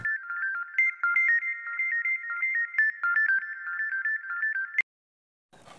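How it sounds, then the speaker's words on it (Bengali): A phone ringtone plays a looping electronic melody of short warbling tones for nearly five seconds, then cuts off abruptly and leaves brief near-silence. "কাকা ফোনটা ধরো।"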